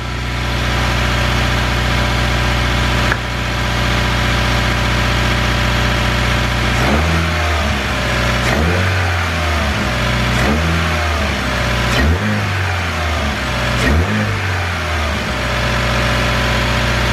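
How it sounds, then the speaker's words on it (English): A car engine idles, then revs up sharply several times in quick succession, each rev rising and dropping back to idle, close and loud. "I'll give it a few revs."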